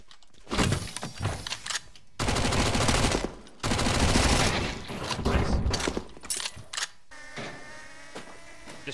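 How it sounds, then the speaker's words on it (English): Gunfire in a shooter video game comes in bursts of rapid automatic fire with heavy sustained volleys and short gaps, loud and close. Brief pauses fall between the bursts. "There's someone else shooting these guys."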